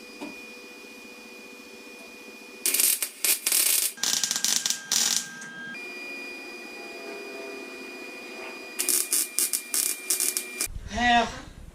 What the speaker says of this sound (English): Joining two pieces to one. Called welding.